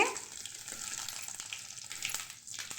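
Mustard seeds, cumin, dried chillies and garlic frying in hot oil for a tempering, a faint steady crackling sizzle throughout with no talking.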